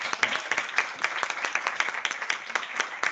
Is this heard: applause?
yes